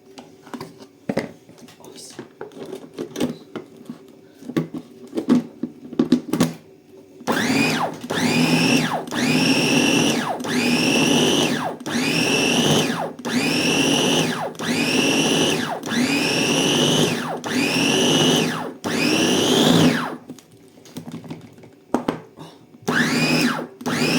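A kitchen blender whirs in a dozen short, loud pulses, chopping herbs and garlic for green salt or garlic salt, with brief pauses between bursts and a quiet voice speaking before it starts.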